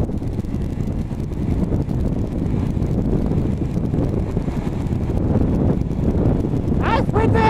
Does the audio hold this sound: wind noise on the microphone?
yes